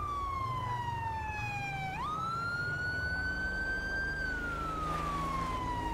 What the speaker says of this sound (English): hopefully the siren did help